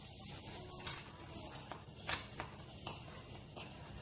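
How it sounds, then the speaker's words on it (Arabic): A spoon stirs and mixes a blend of ground spices, chicken spice mix, cardamom and paprika, in a bowl, producing soft scraping and a few light metallic clinks close by, with no speech. "فهنخلط البهارات دي كلها مع بعض."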